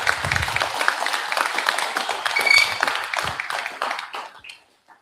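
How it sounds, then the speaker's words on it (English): An audience at a real estate design talk breaks into steady, close applause, clapping densely for about four seconds before it thins out and fades to quiet. "Big round of applause, guys."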